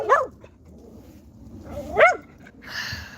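A dog barks sharply twice, about two seconds apart, at moderate distance in a fairly quiet room, followed by a softer high whine.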